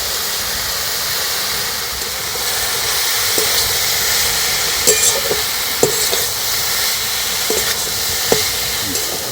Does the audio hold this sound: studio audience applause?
no